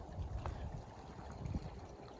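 Faint flowing stream water murmurs softly in the distance at a mountain campsite, a low, steady trickle under a quiet outdoor hush.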